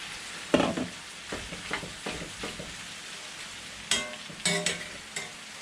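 Potatoes frying in a pan with browned beef tongue, spatula stirring and scraping in repeated close strokes over a low steady sizzle, with no talk.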